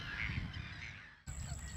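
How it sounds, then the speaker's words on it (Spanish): Gulls call at their gathering area beside a kayak on open water, harsh cawing cries overlapping close by, then a brief cut to a new scene with a steady high tone and more calls. "Ahora estamos en el área elegida por las gaviotas para reunirse"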